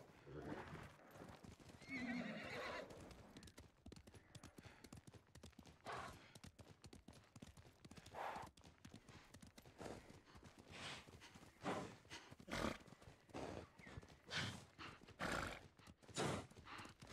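A horse whinnies loudly near the start in the game Ghost of Tsushima, followed by repeated clip-clopping hoofbeats and snorts in an irregular rhythm, with faint murmuring in the background.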